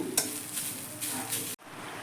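Fried papaya is lifted from oil in a frying pan, a close sizzle with short scraping stirs and a light metal clink before the sound cuts sharply quieter near the end.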